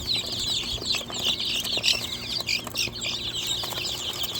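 Guinea fowl on a homestead give repeated harsh, rhythmic chattering calls close by, mixed with rustling and wing flaps, with no talking.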